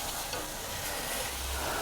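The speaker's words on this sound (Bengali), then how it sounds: "এবার আমি ভালো করে মশলাটাকে কষাবো।" Spice paste fries in oil while being stirred, a dense close-up sizzle and scraping that runs steadily through a short stretch without speech.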